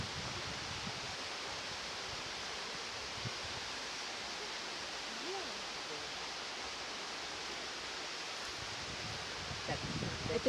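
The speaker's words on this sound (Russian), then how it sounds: "Это первый водопад, который я вижу в своей жизни." The Hotitsa waterfall in Bulgaria gives a steady, even rush of falling water that fills the whole stretch at constant loudness, heard from close by with no clear voices over it.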